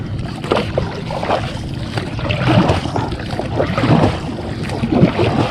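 Oars dipping and pushing through water as a small fishing boat is paddled out to tilapia nets, a steady splashing churn with wind buffeting the microphone throughout.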